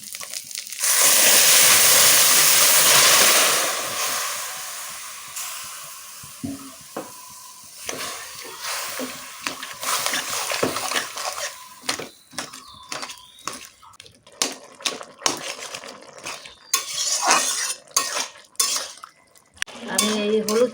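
Pumpkin and bottle gourd greens tipped into a hot pan of tempering oil burst into a loud hiss that fades, then a spatula scrapes and clatters in uneven strokes as the greens are stirred, close up and mostly without talk.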